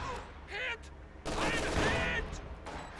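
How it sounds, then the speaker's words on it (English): Artillery barrage in a video game: two close bursts of rapid, crackling explosive fire, the second longer and louder, with a muffled rumble between them. "Oh, this barrage opens up"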